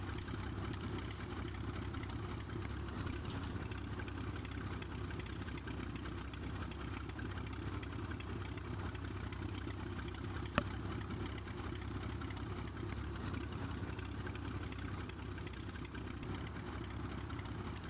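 Engine of a Cessna 185F amphibian in a flight simulator idling steadily while taxiing, a low, even drone with no talk.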